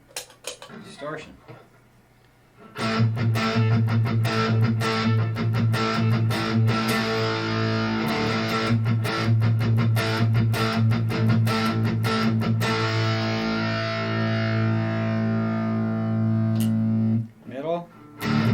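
A distorted Gibson Les Paul electric guitar on the neck pickup playing sustained, loud chords with choppy strums, fading near the end.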